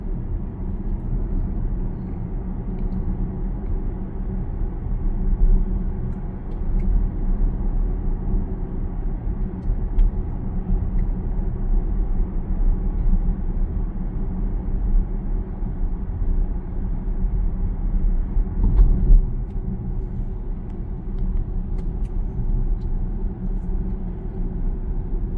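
A Zeekr 7X electric SUV cruising on its own at around 60 to 70 speed, a steady low road and tire rumble with wind noise inside the cabin, continuous and even with no talking.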